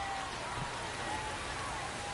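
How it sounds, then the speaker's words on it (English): Rain falling steadily over a ballpark in MLB The Show 26, a soft, even hiss of drops with a faint tonal hum underneath, quiet and continuous with no talk. "We're coming right up against it with the way this rain is coming down"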